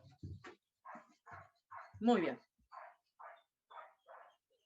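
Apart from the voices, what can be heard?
dogs barking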